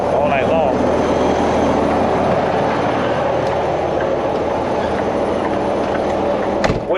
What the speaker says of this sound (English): it goes into what it's doing right now, which actually kind of sounds like a regen. It's a high idle.